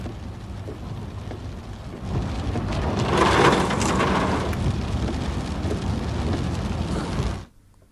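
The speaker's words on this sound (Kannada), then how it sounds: "ಇನ್ನು ಸಹಕಾರ ನಗರದಲ್ಲಿ ಭಾರೀ ಮಳೆಯಾಗಿದೆ" Heavy rain pours in Sahakar Nagar, Bengaluru, a dense steady roar that grows louder after about two seconds and holds before cutting off abruptly near the end, with no voices.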